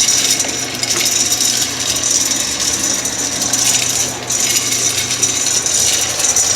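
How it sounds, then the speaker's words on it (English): A 1959 Axeman Anderson 130M tattoo machine, a PT103, running at its original settings and not hooked up, makes a loud, continuous raucous mechanical buzz with rapid ratcheting clatter close by, briefly dipping once. "it's a bit more of a raucous machine when running at the original factory settings"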